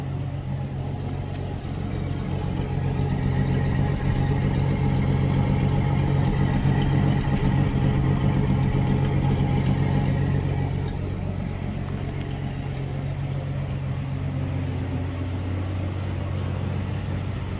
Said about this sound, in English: Go back and listen to her at the exhaust.